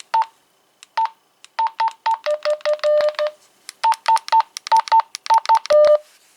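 A Topsung USB rechargeable long-range walkie talkie powering on: a steady series of short, clean electronic beep tones in quick rhythmic runs, close and clear, with no talking.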